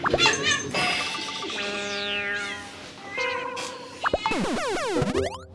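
A cat meows several times amid a busy mix of tinkling, chiming toy-like tones and faint background voices, the calls rising and falling in pitch at moderate loudness.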